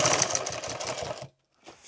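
A sewing machine stitching an XL bag, a fast steady close mechanical chatter for over a second, then it stops and a brief softer whirr follows.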